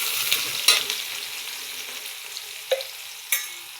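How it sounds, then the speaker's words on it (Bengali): Chopped onions frying in a pan for a home-style rohu fish curry, with a steady close sizzle broken by a few clinks and stirring scrapes of a utensil, and no voices. "পেঁয়াজগুলো ভাজা হচ্ছে"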